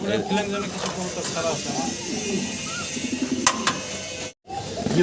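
Pigeons in a fancy-pigeon loft coo in soft, rolling, repeated calls, close by, with a voice over them and a brief dropout near the end.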